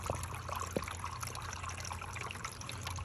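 Water trickling steadily from a bottle into a homemade aluminum cleanup sluice lined with V matting, three sections, for cleaning gold dredge concentrates; a continuous soft pour with a few small splashes, alone.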